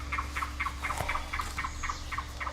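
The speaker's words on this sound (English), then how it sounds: "Listen to the birds." Turkeys gobble in a rapid repeating rattle, about ten pulses in under three seconds, over a low steady hum.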